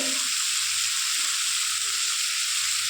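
Ground turmeric, Kashmiri chili, coriander and cumin fry in a pan with a continuous bright, even sizzle, moderately soft, unbroken for the whole stretch.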